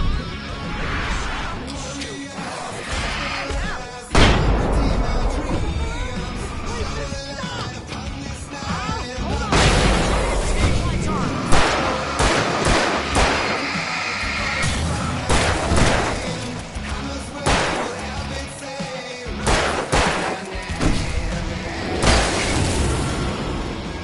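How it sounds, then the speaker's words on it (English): Fireworks bursting in the Alan Wake video game, a dense run of loud booms and crackling blasts with sharp surges throughout, mixed with whooshes and game sound effects. "I can set off more of the fireworks from here and help you out!"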